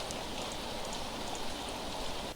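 A steady, dense downpour of rain in the visual novel game Fault Milestone One, an even hiss of falling water that stays loud and unbroken throughout with no voices.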